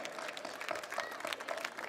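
A crowd applauds steadily at a Shivaji Jayanti event in Lucknow, a dense patter of many hands clapping at once, fairly loud and continuous from start to finish.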